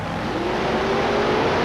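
A big red Chevrolet drag racer revving hard at the staging line, a loud dense engine roar with a rising harmonic pitch, sustained throughout the short burst.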